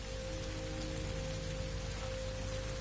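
Toxic rain falls steadily in No Man's Sky, a dense, even hiss of drops on surfaces with a faint steady hum underneath and no speech.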